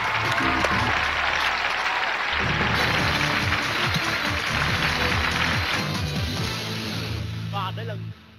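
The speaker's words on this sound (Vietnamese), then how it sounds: "một tràng pháo tay dành cho Hải" A studio audience on a Vietnamese game show applauds a contestant, a dense burst of clapping that sits over loud background music and briefly tails off at the end.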